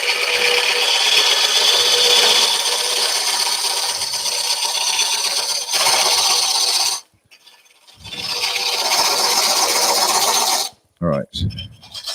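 An old Henry Taylor gouge cutting a live edge wooden burl bowl on a lathe, a loud close continuous rasping scrape that breaks off in short pauses before resuming.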